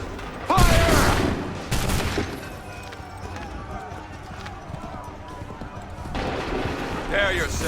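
Musket volley fire in the Assassin's Creed 3 video game, a loud burst of shots near the start followed by another crack and scattered battle noise, with a further burst of shots and shouted commands toward the end.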